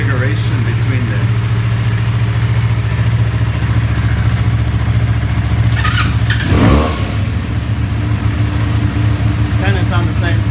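An inline-twin motorcycle engine, either a 2017 Benelli BN302 or a 2021 Yamaha R3, idles loud and close with a steady throb, then gives one quick throttle blip midway before settling back to idle.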